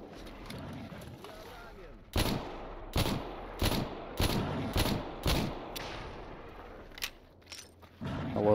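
Gunfire in the modded shooter STALKER Anomaly, with seven sharp, evenly spaced shots in a steady rhythm, each loud and close. Softer distant shots and a low background rumble surround the burst.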